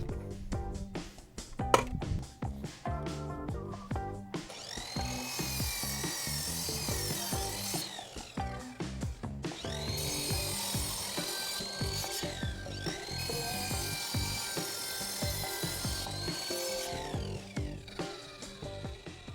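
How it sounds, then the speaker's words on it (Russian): Miter saw trimming the edges of wooden boards in a home workshop; repeated bursts of a motor whine and cutting noise, fairly close, with short pauses and clatter between cuts, no voices. "Края буду подрезать на торцовочной пиле."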